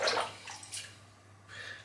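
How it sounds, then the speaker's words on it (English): A shaving razor is swished and rinsed in a basin of water, producing quiet splashes and trickles in a few short bursts, faint and close with a low hum underneath. "just another quick little shake in the water, and it's crystal clear"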